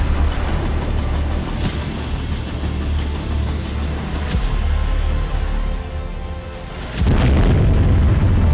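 Huge explosion from the Kakhovka dam blast in Kherson, Ukraine: a sustained, loud low rumble rolls on for seconds, eases off, then a fresh heavy boom surges back in near the end.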